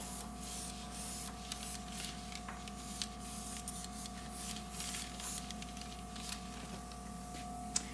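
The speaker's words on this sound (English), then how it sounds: "the beauty of having this box, I just spray it on it" An airbrush sprays cake-decorating colour with a quiet, continuous hiss over a faint steady hum, broken by small soft bursts, with no talk.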